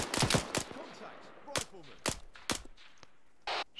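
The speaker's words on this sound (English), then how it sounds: "Shots close." Gunshots ring out in ARMA 3, a rapid pair of cracks followed by single sharp shots spaced about half a second apart, loud against a quiet background with a faint voice underneath.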